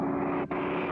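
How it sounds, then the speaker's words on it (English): A cartoon airplane engine drones at a steady, loud pitch, dipping for an instant in the middle before the hum resumes unchanged. "That engine's going to quit."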